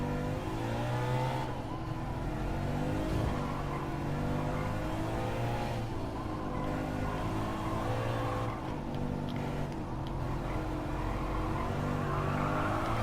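Subaru WRX engine from Gran Turismo 7 held in first gear, droning steadily and loudly throughout with rising and falling revs and some tire scrub, no voices.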